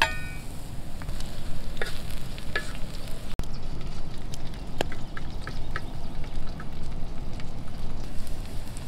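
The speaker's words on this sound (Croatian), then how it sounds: "Dok se luk prži koji smo isjeckali na kockice" Diced onion and two hot peppers fry together over low heat in a steady crackling sizzle, close and continuous, with one sharp clack partway through and no speech.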